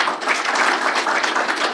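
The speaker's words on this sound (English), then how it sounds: "Let's give a clap." An audience at an outdoor mountain run launch event applauds, a continuous, fairly even patter of many hands clapping at moderate volume.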